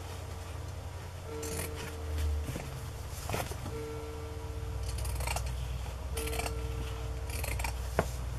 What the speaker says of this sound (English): I'm going to trim this edge with about a quarter of an inch hanging off.